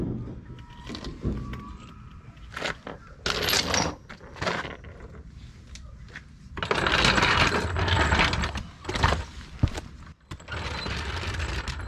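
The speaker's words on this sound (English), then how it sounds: "We'll come back and torque it down." Wrench torquing the lug nuts on a tandem axle enclosed trailer wheel, heard as bursts of ratcheting clicks and metallic clatter with brief pauses between them, close but fairly quiet, with no talk.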